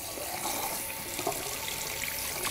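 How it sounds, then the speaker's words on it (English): Water runs steadily from a salon sink tap, a continuous close hiss and splash with no talk over it. "Then we turn on the tap."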